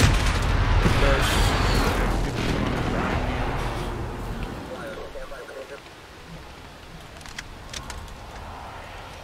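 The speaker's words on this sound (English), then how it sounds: "Enemy precision airstrike inbound." Precision airstrike explosions in the video game Modern Warfare set off a heavy, rumbling barrage of booms and crackling blasts that gradually thins out, with a voice talking over it.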